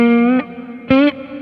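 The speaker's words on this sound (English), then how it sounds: "listen how the reverb develops" Two short electric guitar phrases in a minor blues style, each note sustained with a bright harmonic tone and a reverb tail lingering between them.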